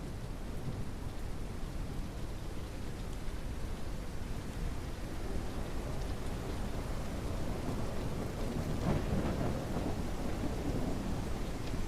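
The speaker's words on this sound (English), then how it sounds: "Oh, it's just a storm coming in." A thunderstorm in a video game: steady heavy rain roars throughout, with deep rolling thunder building toward the end. It is loud and continuous, with no talking.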